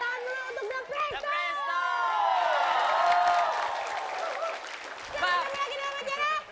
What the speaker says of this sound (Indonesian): tepuk tangan dulu untuk The Presto